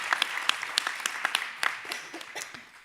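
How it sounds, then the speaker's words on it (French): Conference audience applauds presenters at a marketing automation event with a small, sparse round of distinct claps, fairly quiet and thinning out over three seconds. "je crois qu'on peut les applaudir."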